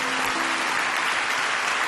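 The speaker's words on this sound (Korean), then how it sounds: "우리 박수로 한번 격려하겠습니다" Church congregation applauding to encourage children, a dense, even wash of many hands clapping together in a large hall, steady and full throughout.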